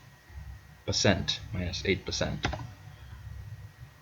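Several quick keystrokes on a computer keyboard while setting Virtual DJ 8 mappings, a short burst of close clicks mixed with a person speaking.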